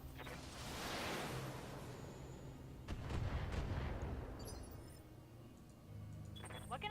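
Mech weapons fire on towers in the BattleTech game, a dense rumbling barrage with repeated booming blasts, loudest early and again midway, with battle noise continuing underneath.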